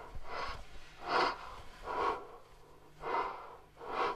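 Heavy, rhythmic breathing of a man trapped in a coffin-like confined space in the film Buried: five close, strained breaths drawn in and pushed out at a steady pace, with nothing else around them.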